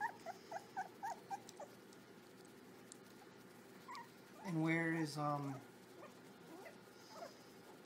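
A three-week-old puppy whimpers in a short run of high, wavering whines near the middle, preceded by soft little yelps, close by and fairly faint against a quiet room, with a person speaking nearby.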